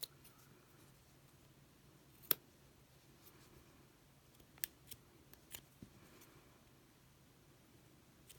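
Scissors snipping off yarn tails from a crocheted woven napkin ring holder, a few faint, sharp close-up snips spaced irregularly over a quiet background.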